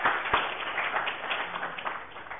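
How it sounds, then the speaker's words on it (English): A classroom audience gives brief, scattered hand clapping for a student. The patter is muffled and fairly even, with one sharper clap near the start. "Give Hunter a hand clap"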